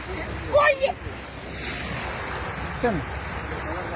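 A swollen river rushes and roars against a crumbling bank in flood, a steady broadband wash of water and wind close to the microphone, with brief voices calling out over it.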